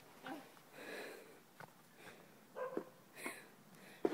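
A dog plays in snow, giving short quiet sniffs and snorts in scattered bursts with brief pauses, close by and faint.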